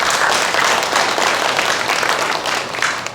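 A hall audience at a civic policy concert applauds loudly and steadily, dense clapping from many hands that holds for several seconds before beginning to taper off.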